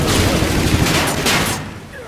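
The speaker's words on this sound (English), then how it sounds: "Whose idea was it to let us walk around with a freaking mini gun?" Sustained minigun fire from the Auger in Call of Duty: Infinite Warfare, a dense, loud, continuous rattle of rapid shots for about two seconds, then cutting off abruptly.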